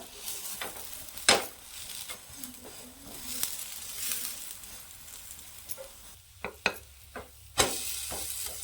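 Bread slices pan-roasting crisp and brown, a soft low sizzle under intermittent scraping and pressing sounds from a spatula, with several sharp clinks of utensil against pan.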